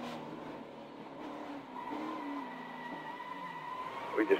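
A NASCAR Xfinity race car spins out after a tire failure, its engine droning steadily as the tires skid and scrub across the track, closing with a short louder squeal burst near the end.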